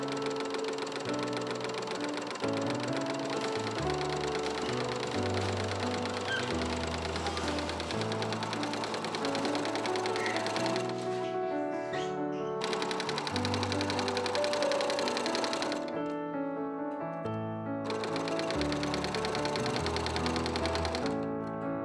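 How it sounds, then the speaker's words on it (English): An overlocker serges the outer fabric edges of a vintage-style top, running in a rapid, steady mechanical chatter that cuts out briefly twice before starting up again. "I overlock the outer edges and then stitch the fronts onto the backs."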